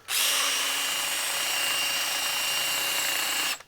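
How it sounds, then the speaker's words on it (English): A two-speed power drill whirs at high speed for a few seconds, steady and close, while a grapevine sphere blank is resin cast, starting and stopping abruptly. "It helps to have a 2-speed drill."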